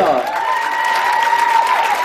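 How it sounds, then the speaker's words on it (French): Audience applause at a 2007 cabaret evening, a steady wash of clapping that holds for about two seconds alongside a sustained whistle-like tone and some voice. "On peut les applaudir."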